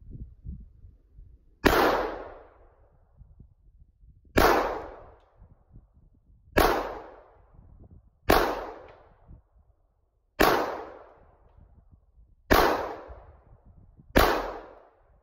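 Seven loud, sharp pistol shots from a Norinco 1911 fired at a steel target, spaced about two seconds apart, each a crisp crack with a ringing decay and quiet gaps between them.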